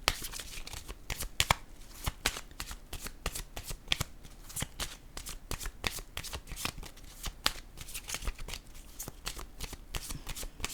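Oracle cards are shuffled continuously and rapidly at close range, a dense, steady stream of soft riffling slaps and flicks that runs quietly throughout, with no voice over it.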